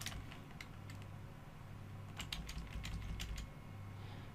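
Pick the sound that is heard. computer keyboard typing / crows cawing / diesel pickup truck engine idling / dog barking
computer keyboard typing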